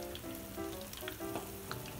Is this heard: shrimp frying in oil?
yes